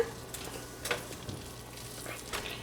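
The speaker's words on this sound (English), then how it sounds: "I have a pound of hamburger here that I'm going to go ahead and put into my pan" A pound of hamburger meat frying in a preheated pan gives a soft, steady sizzle broken by scattered crackles and pops, close and fairly quiet, with no talking.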